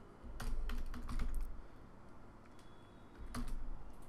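Close, soft keyboard clatter as code is typed in Android Studio: a rapid burst of keystrokes, a short pause, then another quick run of taps.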